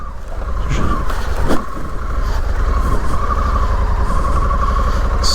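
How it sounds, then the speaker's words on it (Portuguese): A motorcycle's engine runs steadily on a muddy downhill trail, loud and close throughout, with a brief sharper burst about a third of the way in. "Sempre vai fazer a moto dar uma rabiada"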